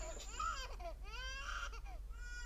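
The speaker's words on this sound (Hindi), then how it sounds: "ये कंफर्म है बच्चे के रोने की आवाज़ आ रही है।" A baby crying in short wailing bursts with whimpers between them, faint and slightly muffled, coming from a drama episode played back during a reaction.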